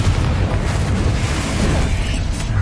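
The Bombarda explosion spell in Hogwarts Legacy on PS5 erupts as a loud, dense booming blast, a continuous roaring burst of noise that fills the whole stretch without any talking.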